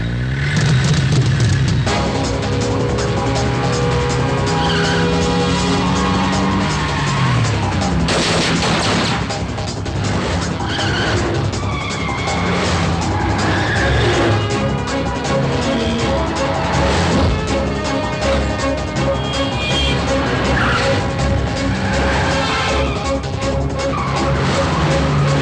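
Cars race fast in a dubbed South Indian action movie chase, loud engine roar and tire screeches mixed with gunfire, crashes and a dense music score throughout.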